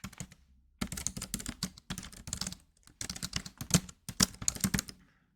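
Fingers typing on a computer keyboard in quick bursts of clicky keystrokes, close and clear, with short pauses between the runs and no talking.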